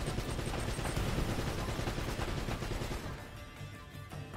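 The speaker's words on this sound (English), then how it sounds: "That's a turret" Rapid turret gunfire in Uncharted: Drake's Fortune, a loud dense stream of automatic shots that carries on steadily and eases slightly near the end.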